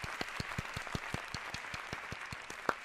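A single person's hand clapping at a steady, fairly quick rhythm, about fifteen sharp claps in three seconds, close and clear with no talking.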